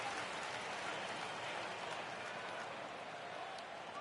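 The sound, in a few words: stadium crowd cheering in video game MLB The Show 19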